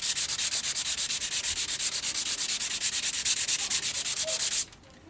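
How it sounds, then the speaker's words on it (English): Hand sanding on a wooden guitar body around a small dent, a brisk rhythmic back-and-forth scratching of about ten strokes per second, close and steady, ending abruptly. "I'm hoping that I'll be sanding both sides of that dent without actually going into the dent"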